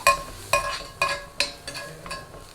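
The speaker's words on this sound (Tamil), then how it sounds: "நல்லா பூண்டோட பச்சை வாசனை போக நல்லா பரட்டிக்கோங்க" About ten cloves of finely chopped garlic sautéing in melted butter in a pan, with a steady sizzle broken by regular metallic stirring clinks roughly every half second.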